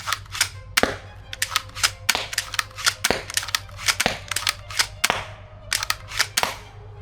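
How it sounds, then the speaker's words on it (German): A pump-action crossbow fires a rapid series of sharp, snapping mechanical shots, close and loud, with brief pauses between quick clusters of releases. "Dann fangen wir hier mal an mit 5 Schüsse schnell hintereinander."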